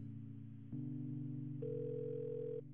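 Telephone error tones after a wrong number is dialed in the Kathy Rain video game, a steady synthetic tone that shifts pitch once and adds a higher note, quiet and alone.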